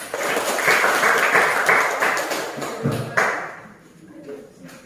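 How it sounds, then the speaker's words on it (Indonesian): Applause for a student group's presentation in a classroom: a few seconds of steady, moderately loud clapping from a small crowd, tapering off toward the end with some voices underneath. "Oke, kita berikan aplaus."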